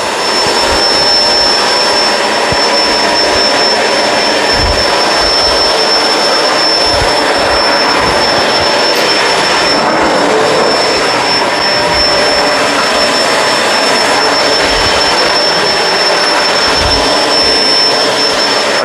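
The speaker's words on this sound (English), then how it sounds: "I always mention how powerful this Kenmore is, but I need to because it's really powerful. This is a very good vacuum." A Kenmore Crossover Ultra vacuum cleaner runs steadily across a floor, giving a loud, continuous whooshing roar that holds for the whole stretch with small thumps underneath and no talking.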